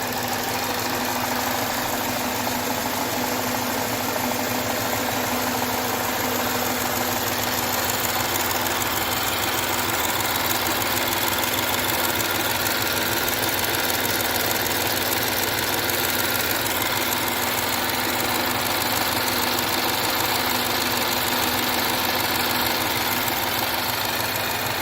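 A Jaguar Land Rover 3.0L V6 AJ126 direct-injection engine idles steadily close by after being reassembled, giving a continuous, even mechanical hum with a faint ticking texture and no pauses.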